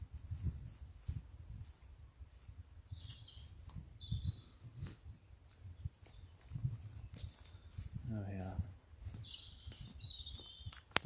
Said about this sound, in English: Hopefully you're picking up the woodland birds are singing away up here. There's a robin just above me.